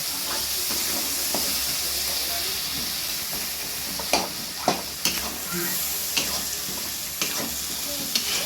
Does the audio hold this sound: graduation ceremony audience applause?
no